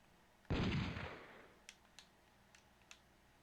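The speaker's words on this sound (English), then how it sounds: "The anime gun shooting?" A gunshot in an anime-style retro video game goes off as one loud blast that decays over about a second, followed by a few faint, sharp clicks.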